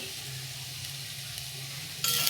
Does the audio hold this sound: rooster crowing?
no